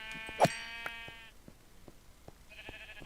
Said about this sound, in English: Now I gotta find those sheep that moved away.